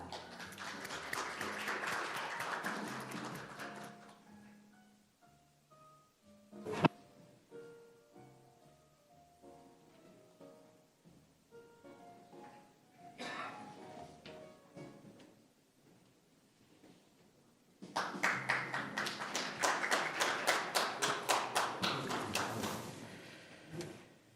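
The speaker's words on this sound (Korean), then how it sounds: "여러분 따뜻한 박수로 환영해 주시기 바랍니다." A forum opening ceremony audience claps to welcome Russian Ambassador Andrei Kulik: a burst of crowd clapping fades out early, quieter tones and a sharp knock fill the middle, and a fresh, louder round of applause returns near the end.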